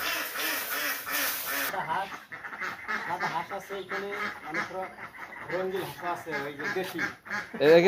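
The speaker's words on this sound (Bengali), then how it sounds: "দেশি হাঁস" Several domestic ducks quacking nearby on a farm in a busy, overlapping chorus, with a brief burst of other noise at the start.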